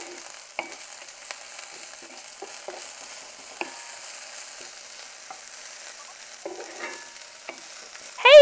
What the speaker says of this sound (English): we're going to saute these up for about a minute or two